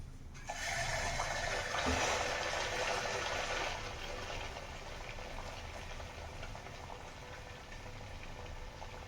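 Shaped snack dough dropped into hot oil, a sudden loud rushing hiss that swells for a few seconds and then settles into a steady, softer bubbling sizzle.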